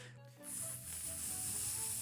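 A human voice imitates a spraying sound with a sustained, breathy hiss that starts after a brief vocal lead-in and carries on steadily for over a second, close to the microphone.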